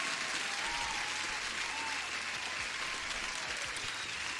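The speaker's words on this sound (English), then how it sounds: "you deserve an applause" Steady applause from a crowd, dense and continuous clapping filling the whole stretch at moderate distance, with no voices over it.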